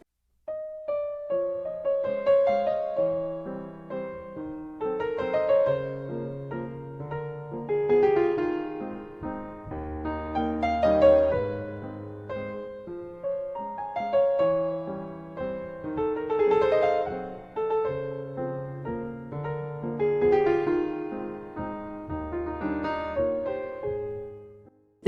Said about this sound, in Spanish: El vals suena así de nostálgico.